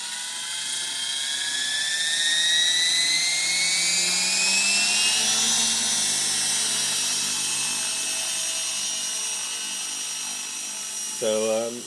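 A small model helicopter whines steadily with a high, buzzing rotor pitch that rises and shifts as it flies, continuous and fairly close, with a brief thump at the end.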